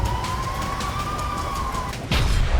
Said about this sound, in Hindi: इजराइल के कई शहरों में लगातार सायरन बज रहे हैं।